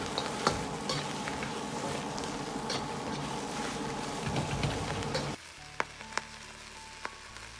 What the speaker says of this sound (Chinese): 炒出姜葱的香味，然后从锅边烹入料酒稍微多一点